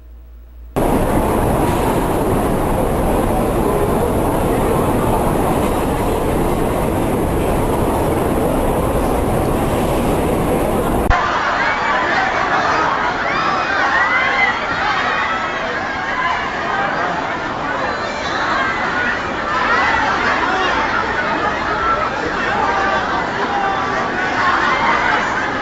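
A crowded Sé metro station in São Paulo roars with trains and a dense, murmuring crowd, a loud continuous din that carries on for the whole stretch.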